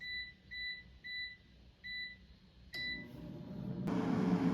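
An air fryer beeps as its temperature and time are set: four short, evenly spaced electronic beeps, then a fifth, followed by the rising whoosh of the fan starting up and running steadily.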